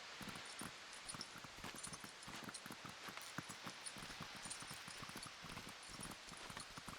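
Hooves trotting at a steady rhythm in the video game Ertugrul of Ulukayin, a dense run of soft clip-clop beats over a constant wash of outdoor ambience, with no talk.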